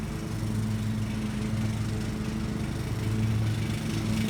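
A lawnmower engine runs steadily nearby, a continuous buzzing drone with a low, throbbing hum and no pauses.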